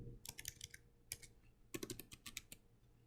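A web address being typed on a computer keyboard, quick bursts of crisp key clicks separated by short pauses, close and fairly quiet.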